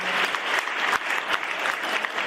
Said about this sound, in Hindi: उनके लिए एक बार जोरदार तालियां।